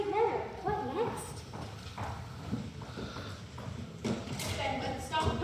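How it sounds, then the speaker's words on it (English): Horses' hooves clip-clop on hard ground as a carriage arrives at an English manor estate, irregular steady hoofbeats under people talking. "Master Craven will expect his horses to be well tended after a long ride"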